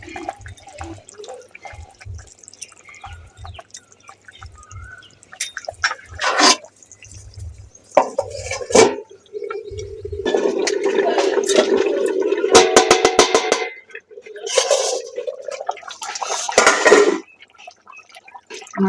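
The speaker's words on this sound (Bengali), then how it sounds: "এই মাছ আর বড়িগুলো দিয়ে ভালো করে আরেকবার একটু ফুটিয়ে নেব।" Fish curry with fried fish and bori (lentil dumplings) boiling in a pan, a bubbling, watery sizzle in bursts, close up, with occasional clatter between.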